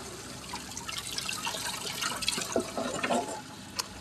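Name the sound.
water overflowing and being recaptured on a farm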